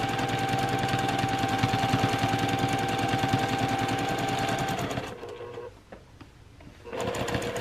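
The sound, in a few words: sewing machine stitching small quilt pieces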